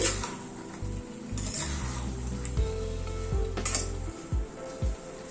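Food for a one-pot lunch or dinner being stirred in a sizzling pan on a gas flame, with a steady frying hiss and several distinct scrapes and clinks of a utensil against the pan, close up and without talk.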